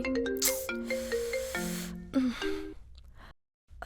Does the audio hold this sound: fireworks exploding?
no